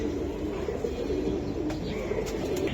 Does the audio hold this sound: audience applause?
no